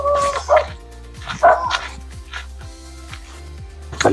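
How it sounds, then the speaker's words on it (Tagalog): Dog on a farm barking in a few separate bursts, fairly close and clear, spaced out across the moment with low background hum between them. "Ayun, may aso."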